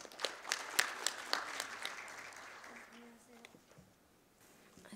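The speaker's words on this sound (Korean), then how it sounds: "박수로 맞이해 주십시오." Audience applause at a Korean academic peace conference session greets the next presenter, starting with scattered claps that thin out and fade over a few seconds, with faint voices beneath.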